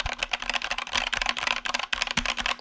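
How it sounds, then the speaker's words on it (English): Fast, close typing on an Anne Pro 2 keyboard with Kailh Box Brown switches, dense, slightly muted tactile clacks in quick irregular bursts, each keystroke distinct and fairly loud. "I recommend getting these switches, the Cali Box Browns, because like they feel nice, they sound like this."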